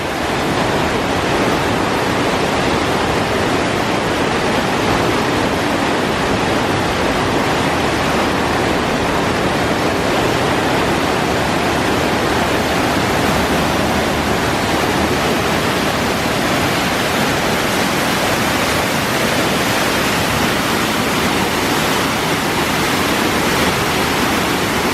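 Fast, turbulent water rushing through Clifton Gorge near Clifton, Ohio, a loud, dense, unbroken roar filling the whole stretch with no pauses.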